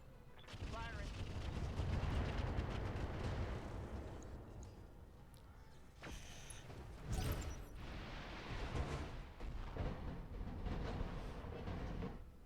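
Artillery barrage in the BattleTech RogueTech mod: a run of heavy booming impacts and rumbling blasts that swell, drop off around the middle, then resume in overlapping bursts, loud and continuous.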